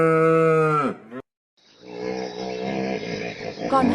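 A water buffalo gives a loud, deep, drawn-out moo, breaks off in a brief silence, then lets out a second rough, lowing call that carries on to the end.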